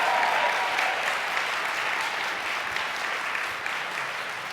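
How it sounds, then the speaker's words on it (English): Concert audience applauds after a musician's performance, a dense, sustained clapping from a sizable crowd that stays loud and even for the whole stretch, with no talk on top. "can everyone give Samson a round of applause"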